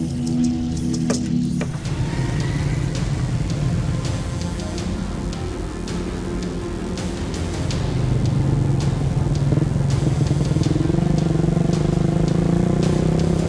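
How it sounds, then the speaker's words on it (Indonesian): Modified motorcycles ride over a rough road, their engines droning steadily with rattling and clattering on top, and the motor tone grows louder and rises toward the end. "Motor yang digunakan rata-rata sudah dimodifikasi untuk melintas di jalur yang akan ditempuh."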